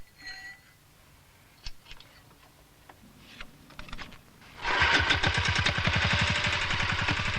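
A small farm power unit built on traction-engine lines has its simple engine start after scattered knocks and clanks, then it runs with a steady rapid chugging beat, close and fairly loud.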